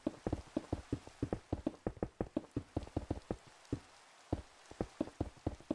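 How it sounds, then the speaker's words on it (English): Rain in a video game, heard as a dense run of sharp, irregular patters and drops hitting a surface, fairly close and continuous, with no voices over it. "Do we think the rain's going to stop in the game too?"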